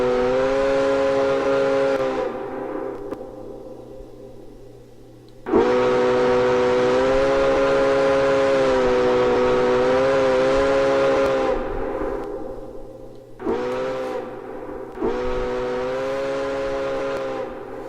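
A loud, rich five-chime train whistle in Garry's Mod sounds in long blasts, with a gap between the first two and a short toot before the last.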